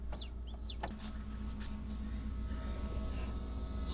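Newly hatched chicks in an incubator giving a few faint, high peeps at the start, then a quiet low hum with occasional soft taps and rustles.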